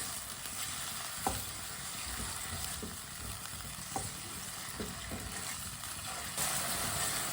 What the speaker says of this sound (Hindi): 3 मिनट के लिए सब चीज़ों को पका लेंगे।